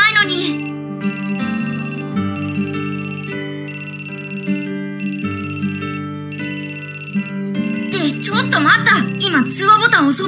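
A melodic phone ringtone chimes repeatedly for an incoming call in the game Amnesia: Memories, steady and prominent for most of the span, with a high-pitched character voice speaking over it near the end.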